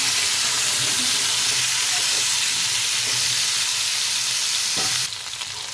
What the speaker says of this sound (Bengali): সবগুলোকে ভালো করে ভেজে নেব। ডাঁটা আলুটা একটু ভেজে নিলে খেতে ভালো লাগে।